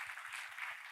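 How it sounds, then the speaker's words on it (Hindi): A church congregation applauds to welcome first-time visitors, a dense, steady wash of many hands clapping together at a moderate distance, with no voices over it. "आइए तालियों के साथ उनका स्वागत करें।"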